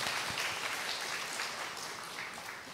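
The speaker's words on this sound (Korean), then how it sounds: "우리 이동하는 동안에 환영하는 박수 하겠습니다." A church congregation claps in welcome during a Sunday service, a dense, steady wash of applause from many hands filling the room throughout.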